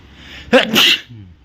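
A single sharp, close sneeze bursts out after a person glances up at the sun outdoors on a clear day, a quick intake followed by a loud expulsion.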